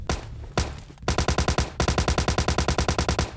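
A Tommy gun in PUBG Lite fires rapid, evenly spaced automatic bursts, loud and close, with brief pauses between strings of shots.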